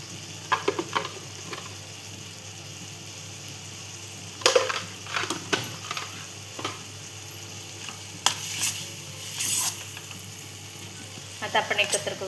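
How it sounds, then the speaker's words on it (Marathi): Homemade masala tipped into a hot pan and stirred, giving a steady sizzle punctuated by bursts of scraping and clattering from the spoon, close and moderately loud. "आता आपण टाकूया घरचा मसाला"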